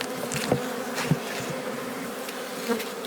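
Steady dense buzzing of many honey bees close by during a hive inspection, a continuous hum with a few brief louder passes.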